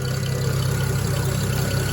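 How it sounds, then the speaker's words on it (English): A BMW 335i engine idles steadily and loudly up close, a continuous low rumble with an even pulse and no talking over it. "All right, here it is idling."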